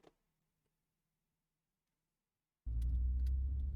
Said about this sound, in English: Now we have the car sound now in there.